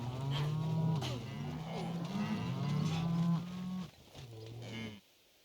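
Cattle in the video game Kenshi moo loudly and nearly continuously in long, drawn-out calls that overlap, with no talking. The mooing stops abruptly near the end.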